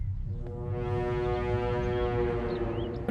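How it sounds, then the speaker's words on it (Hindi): A vehicle horn sounds outside a house in one long, steady, loud blare that holds for about three seconds, with no talk over it. "घर के सामने आकर हॉर्न बजा रहा है।"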